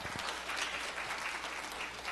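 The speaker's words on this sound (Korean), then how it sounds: "큰 박수 부탁드리겠습니다" An audience at a maritime forum presentation in Busan applauds steadily, a dense even wash of clapping that holds for the whole stretch with no voices over it.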